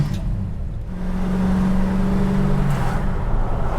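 A 1972 Dodge Charger's 5.9L Magnum V8 hums steadily from inside the cabin at about 45 to 50 mph, with a low tonal drone rising briefly as it pulls along.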